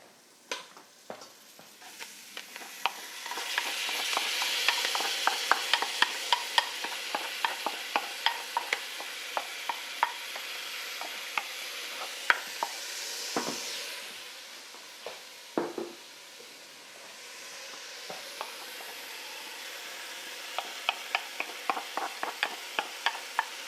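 Rice and lentils are stirred with spices in a pot for khichri, giving a soft sizzle under a quick run of repeated scraping taps from the spoon, then a pause and a few more scrapes.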